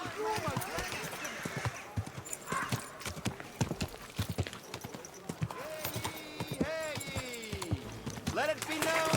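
Horse hooves clip-clop on a hard street in Kingdom Come Deliverance 2, a quick uneven run of sharp near knocks interrupted by a brief whinny, with voices talking over the hoofbeats.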